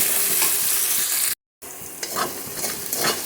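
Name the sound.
spices frying in pan for paneer curry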